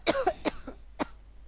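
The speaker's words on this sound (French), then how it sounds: "Toi, arrête de tousser" Three short, sharp coughs, the first two close together and the last after a brief pause, heard alone and close up.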